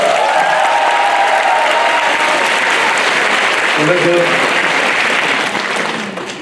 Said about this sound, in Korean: 큰 박수 한번 다시 한번 주세요